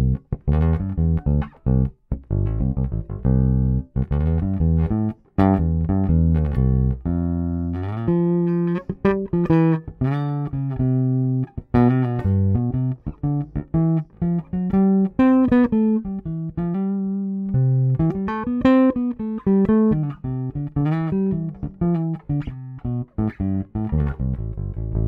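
A Fender American Vintage II 1960 Precision bass with rosewood fingerboard and alder body plays a steady, punchy bassline of repeated plucked notes and short phrases, loud and close, running unbroken with no voices.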